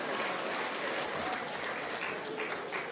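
An audience applauds after a speech by Tanzanian President Samia Suluhu Hassan, a dense, steady wash of many hands clapping at a moderate distance with no pauses.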